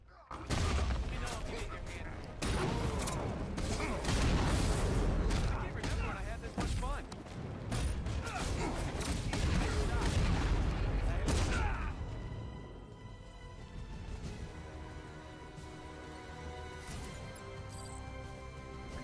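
Dense, loud gunfire and explosions fill a drone battle in the Batman Arkham Knight video game, with rapid bursts and booms that later thin into quieter mechanical game sounds while a voice talks over them.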